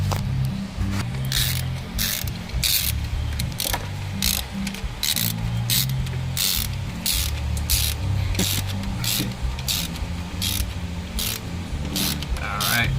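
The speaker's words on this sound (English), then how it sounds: "go grab a socket wrench with an extension to tighten that up while it's in that position" Socket wrench with an extension ratcheting to tighten a bolt on a 1995 Lexus SC300 with a 2JZ-GE engine during an alternator change, with rapid, evenly repeated clicking bursts close by and background garage noise.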